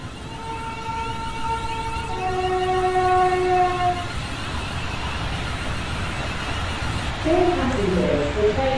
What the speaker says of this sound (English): the train now approaching platform 2 is a northwest railway service